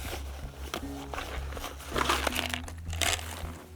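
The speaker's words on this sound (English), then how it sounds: "Then we have toilet paper inside a plastic bag" A plastic bag holding a roll of toilet paper, packed for a backcountry hike, crinkles and crunches in a few close, uneven bursts over a low steady hum.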